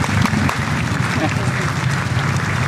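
Audience applause at a live hypnosis show, a dense burst of clapping lasting under three seconds, close and loud, with voices mixed in beneath it.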